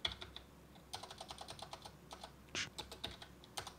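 Touch typing on a computer keyboard gives a quick, uneven patter of close, crisp key clicks with a few heavier strokes, at a low level with no talk.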